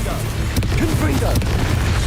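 A Confringo blasting curse goes off in Hogwarts Legacy: two sharp booming bursts ring over a dense rumbling background, with short whistling magical tones between them.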